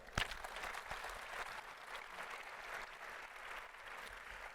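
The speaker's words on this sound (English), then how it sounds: "Let's give a round of applause for that." A round of applause from a forum audience at an event on circular solutions for nature and the economy, a steady moderate patter of many hands clapping that holds evenly throughout.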